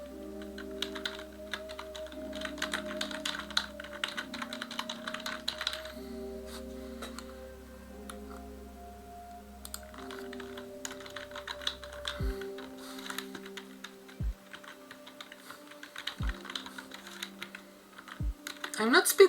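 Clattering keystrokes on a computer keyboard, irregular quick bursts of typing over a low background hum, with a few louder thumps near the end.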